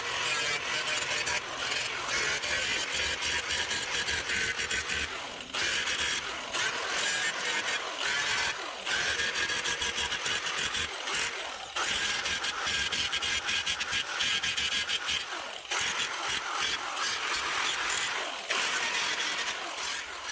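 An abrasive tool grinds down a MIG weld on a cracked classic car fender, giving a steady harsh rasping scrape that runs continuously for about twenty seconds with brief dips in pressure.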